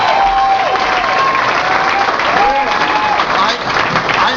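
A crowd applauds after a mayor's remarks following a special recall election, with sustained clapping and scattered voices and cheers mixed in throughout.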